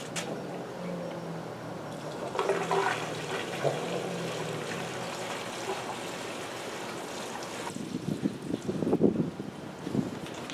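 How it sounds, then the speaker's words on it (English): Gasoline poured by hand into the fuel tank of a 1967 Pontiac Firebird barn find, a steady close liquid gush and slosh running for several seconds, growing rougher and gurgling toward the end. "Put a few gallons in."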